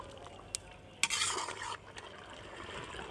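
Mutton is stirred and fried in ghee: a quiet background sizzle broken by a few sharp clinks of a spoon against the pot and a short burst of louder scraping and frying.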